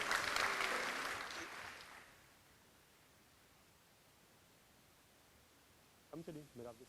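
Audience applause at an Indian Arrival celebration award ceremony in Trinidad and Tobago, a dense burst of clapping for about two seconds that dies away into quiet room tone, then a voice speaks briefly near the end.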